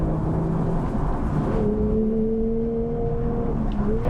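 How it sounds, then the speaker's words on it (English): A Porsche GT3 Touring's engine drones steadily, its intake note holding a sustained tone that shifts in pitch, loud and close throughout. "And you can hear the intake noise."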